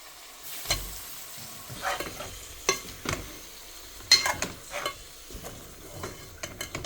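Sizzling and stirring as gedra (cluster beans) go into hot frying masala with potato, bursts of crackle and spoon scrapes rising and falling near and close, no talking.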